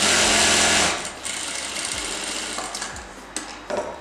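A sewing machine runs loud and steady on blouse fabric, then drops to a lighter, uneven stitching whir with brief mechanical clicks and stops.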